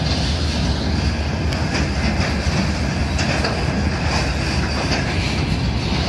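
Freight wagons keep rumbling through a railway crossing near Mukachevo, a dense, steady roar of wheels on track with faint rhythmic clacks and occasional squeaks, loud and nearby.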